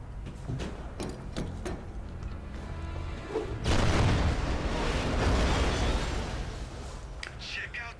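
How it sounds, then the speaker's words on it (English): A Tesla cannon weapon fires in the video game Tomb Raider: Legend, a loud, broad crackling blast that bursts in midway and rumbles on for several seconds, preceded by sharp clicks and impacts. "this is like a Tesla cannon, basically, but it doesn't have full power to it yet"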